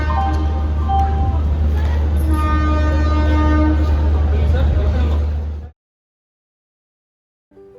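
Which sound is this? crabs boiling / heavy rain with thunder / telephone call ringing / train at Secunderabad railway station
train at Secunderabad railway station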